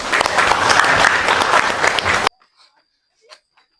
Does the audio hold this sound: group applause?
yes